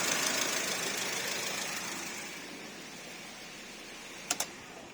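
A Porsche Macan 2.0L turbo engine running steadily at idle after a cam cover reseal, recorded up close as a continuous broadband hum that slowly fades, with two brief clicks near the end.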